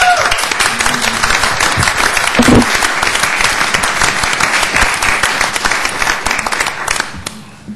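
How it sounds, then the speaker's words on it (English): An audience at a city planning commission meeting gives a warm, sustained round of applause for departing commission members, steady dense clapping that tapers off at the end. "Boysen a warm round of applause"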